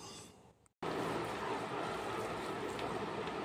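Rain falls steadily as a dense, even hiss that cuts out briefly near the start and then returns at full strength, with no voices.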